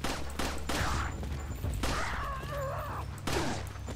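Gunfire in Resident Evil 4 comes as several loud close bursts of shots in quick succession, with short gaps between volleys.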